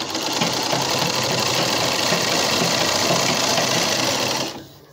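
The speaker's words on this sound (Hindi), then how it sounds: "अब इसको हम डबल सिलाई लगा लेते हैं।" Sewing machine running steadily as it stitches a double seam on a baby cloth diaper, a fast continuous mechanical whir close by that stops abruptly near the end.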